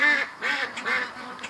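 Ducks kept as backyard pets quacking close by in three or four quick nasal bursts, loud and alone.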